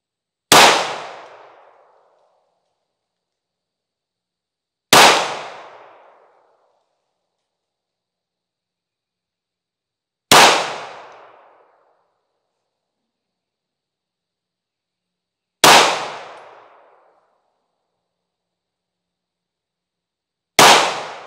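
Five slow, deliberate single shots from a Sig P365 Fuse pistol being zeroed with a red dot sight, each a sharp loud crack with a short decay and silence between shots.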